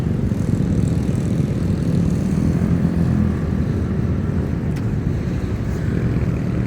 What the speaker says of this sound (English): Plane taking off of Clark. Up there in the background in the sky.